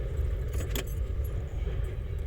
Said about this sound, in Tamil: இப்போ சாவி ஆன் பண்ணி ஸ்டார்ட் பண்ணுங்கள்.